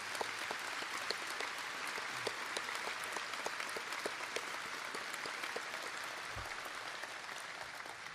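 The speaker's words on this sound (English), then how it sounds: "please join me in a round of applause for these Air Force organizations" Dense audience applause at a Memphis Belle ceremony honoring Air Force organizations, individuals and families, a steady wash of many hands clapping that holds at an even level throughout, with a brief low thump partway through.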